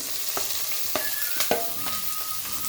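Vegetables with green chilli, onion and purple cabbage sauté on high heat in a pan, a steady close sizzle broken by a few sharp scraping stirs.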